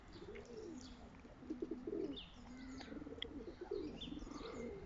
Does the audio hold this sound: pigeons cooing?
yes